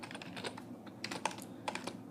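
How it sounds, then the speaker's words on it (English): Typing on a computer keyboard while writing basic C++ code, with a steady run of light, quick key clicks, a few louder taps standing out, no speech. "start off with a fresh screen by typing out our basics"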